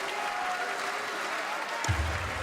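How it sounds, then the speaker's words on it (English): Steady crowd applause at a BDO World Championship darts quarter-final, a continuous wash of clapping throughout with a low thump near the end. "Applause from the crowd."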